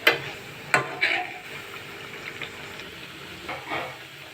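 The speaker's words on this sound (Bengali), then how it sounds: "এবার আমি পাতলা পাতলা করে পকোড়াগুলো শেপ দিয়ে ভেজে নিচ্ছি" Thin beetroot or red cabbage pakoras frying in hot oil, a steady close sizzle punctuated by several sharp clatters and spatters as pieces are added and moved, with no talking.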